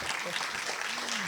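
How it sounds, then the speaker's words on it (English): Applause from a film festival masterclass audience in Mumbai, a steady wash of clapping throughout, with some voices underneath. "we should have factored in the applause into our run of show"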